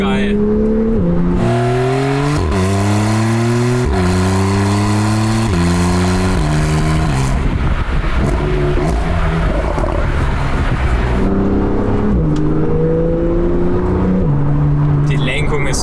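A Porsche 911 Carrera 4 GTS of the 991.2 generation accelerating hard through the gears with rising engine pitch and rapid downshifts with blips, loud from inside the car, while someone talks over it.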